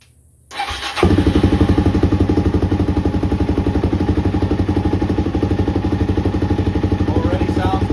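A 2020 Suzuki DRZ400 motorcycle, freshly filled with oil, starts after a short quiet moment with a thump, then settles into a loud, steady, close single-cylinder running beat with even pulses and no talk.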